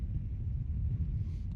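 Strong wind at an outdoor polo match buffets the microphone, a continuous low rumbling roar with no voices.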